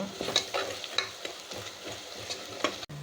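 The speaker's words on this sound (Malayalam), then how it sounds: "വെളുത്തുള്ളി ഇഞ്ചി പേസ്റ്റ് നല്ല വന്നിട്ട് ഫ്രൈ ആകണേ അതുവരേക്കും നമ്മൾ വഴറ്റിക്കൊണ്ടേ ഇരിക്കണം" Garlic-ginger paste sautéed over low heat in a home kitchen pan, with repeated close spatula scrapes and stirring strokes over a light steady sizzle, ending in a sudden cut.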